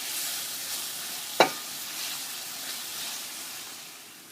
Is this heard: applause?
no